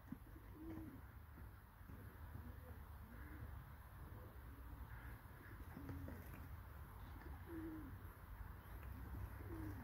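Young racing pigeons coo softly and repeatedly at a loft during a Toruń club flight, the low calls returning at intervals over a steady hum of background noise.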